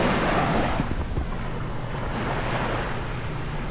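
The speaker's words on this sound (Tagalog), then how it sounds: "Ayan lang yung dagat." Sea waves wash continuously onto a sandy beach at a resort, a loud, steady roar of surf mixed with wind buffeting the microphone, with no voices.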